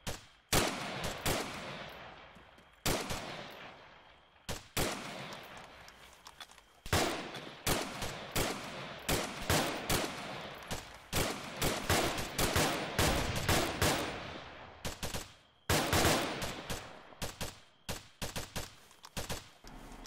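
Rapid bursts of video-game gunfire in the tactical shooter Task Force Spartan, with sharp shots and automatic volleys that come in clusters across the stretch, loud and close, with short gaps between them.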